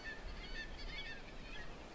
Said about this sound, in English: you probably have seen some sneaky seagulls